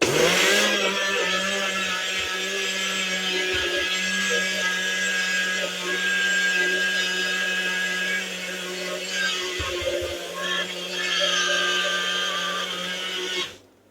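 A kitchen blender grinds granulated sugar into powdered sugar with a loud, continuous motor whir. Its pitch shifts slightly through the run, and it cuts off abruptly at the end. No one speaks over it.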